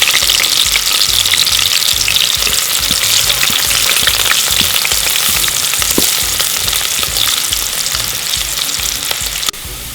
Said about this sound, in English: When the cooking oil is ready and very hot, we can add our onions.